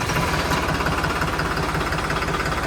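A New Holland Rocket special edition tractor engine idles with a steady, low, chugging diesel rhythm, running close and loud and even throughout without a break.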